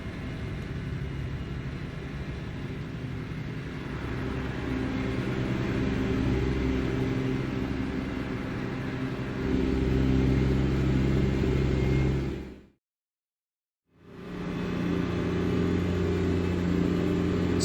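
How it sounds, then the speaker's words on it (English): A Mack truck engine in American Truck Simulator drones loudly and steadily, a heavy low rumble that swells briefly and then cuts out for about a second before resuming. "So if we ignore the very loud engine"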